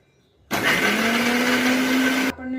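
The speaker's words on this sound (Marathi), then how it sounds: "याप्रमाणे सर्व फोडी आपल्याला मिक्सरला फिरवून घ्यायचे आहे" Mixer grinder whirring through amla pieces with a little ginger, switching on abruptly for a loud steady motor hum with churning noise for about two seconds, then winding down.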